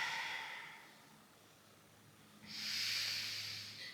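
Two soft, airy exhalations during a floor mobility exercise done with the legs in tabletop. The first breath fades out, and after a pause a stronger, hissing breath follows. Both are faint and close, with no talking.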